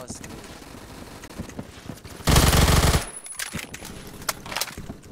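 Rapid automatic gunfire in the first-person shooter Phantom Forces, one dense burst of close, loud shots lasting under a second, with scattered lighter game sounds and someone talking around it.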